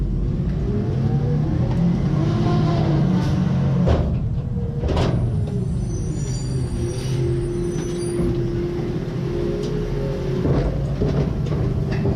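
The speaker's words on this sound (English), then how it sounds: "There's a rear load garbage truck recycle carts." A rear-load garbage truck collects recycle carts, its engine rumbling steadily throughout with clanks and bangs of the carts and hydraulic whines and squeals rising over the drone, heard close and loud with no talking.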